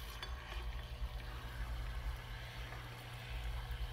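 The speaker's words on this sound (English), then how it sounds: "we're pumping in atmosphere air with a fish pump and a bubble stone" A small aquarium fish pump pushes air through a bubble stone, giving a faint, steady hum with a soft, continuous bubbling hiss throughout, quiet and unbroken, with no voices.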